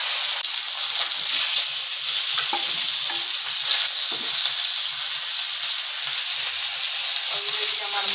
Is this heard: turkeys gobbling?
no